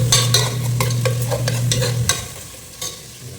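Green chilies are stirred in a hot pan, with a continuous crackling sizzle broken by repeated scraping and clinking strokes of a spoon against the pan, close and fairly loud.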